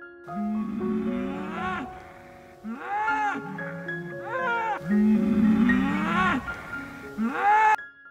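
Vano cattle on green pasture moo repeatedly and close by, several overlapping drawn-out calls from a few animals in open country.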